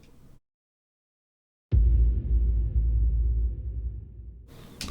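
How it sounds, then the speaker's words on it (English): A cinematic sub-boom impact hits after a brief silence, a deep, heavy low-end thud that swells and rumbles for about three seconds before cutting off, alone with no talking. "sub-booms are great just for adding this huge, low cinematic texture for your music"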